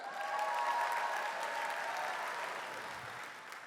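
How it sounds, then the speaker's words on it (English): An audience at a storytelling show breaks into smooth, continuous applause for a drag performer, a dense wash of many hands that fades slightly toward the end. "give a big round of applause for Dolly Dagger"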